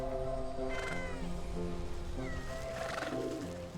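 Cats meow in the Wytchwood video game, with a few soft mewing calls over a steady layer of ambient game music and background noise.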